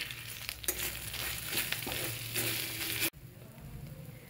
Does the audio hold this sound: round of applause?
no